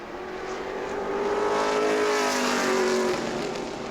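Pro Late Model race car engines roar and whine during group qualifying at New Smyrna Speedway, the sound swelling louder in the middle and then fading slightly.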